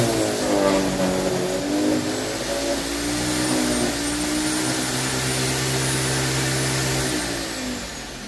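An Earthwise GS70015 electric garden shredder whines loudly as it chews through a dead, dry branch about a quarter inch thick, its motor pitch dipping and rising under load before easing off near the end.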